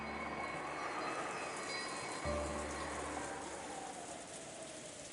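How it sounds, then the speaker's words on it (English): Steady rain falling, a continuous broadband hiss at moderate level with a brief low thump midway, no voices present. "the intrusive sound of rain that was creeping into the dining hall"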